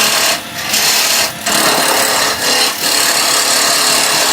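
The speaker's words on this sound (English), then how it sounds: "Let's get bowl gouge, take away some of those corners." A bowl gouge cuts a pen blank spinning on a wood lathe, knocking off the corners in a continuous loud scraping, rasping hiss that dips briefly as the tool lifts off the wood and re-engages.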